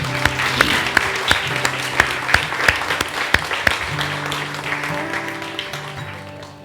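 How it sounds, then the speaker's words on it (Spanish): Church congregation applauding during a worship service, sustained clapping with sharp individual claps standing out over a held organ or keyboard chord. "Den un aplauso al Señor"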